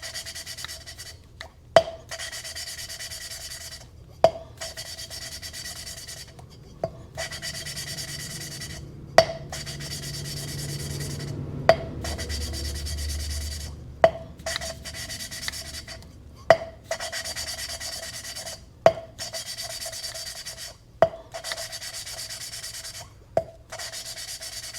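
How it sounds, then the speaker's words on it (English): Engine valves on a Ford E7TE cylinder head are lapped with grinding compound, a close, steady gritty rubbing and rasping punctuated every few seconds by a sharp tap as the valve is lifted and reseated. "you're going to hear the sound get lighter and lighter and lighter as it breaks down the grinding compound"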